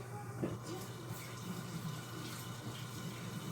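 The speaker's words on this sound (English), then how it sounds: "We go over here with clean hands. Get some soap in it." Hands are washed with soap under a running tap before baking, the water flowing in a quiet, steady stream with light splashing and no speech.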